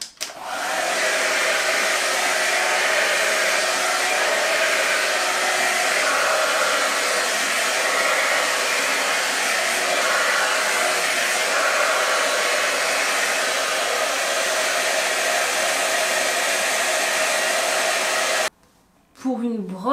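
A Babyliss Hydro Fusion rotating heated hair brush runs with a loud, steady blowing whir close by for about eighteen seconds, then switches off.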